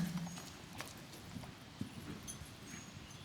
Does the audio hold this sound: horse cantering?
yes